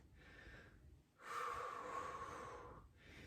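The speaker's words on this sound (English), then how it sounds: "Get your breath back." Heavy, audible breaths after a core workout, drawn in and pushed out in long, slow cycles, close and fairly soft with no talking.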